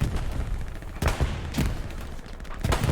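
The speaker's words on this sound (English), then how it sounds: "Where's the WTH artillery that's blasting this area?" Artillery fire in the wartime shooter Hell Let Loose, a steady barrage of heavy blasts and booming thuds at irregular intervals, loud and rumbling over a continuous din of battle.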